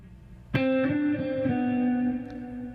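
A distorted electric guitar rings out a sustained note after a sharp pick attack, with a few quick re-articulated notes on the same pitch as part of a 16th-note exercise, loud and alone with no voices.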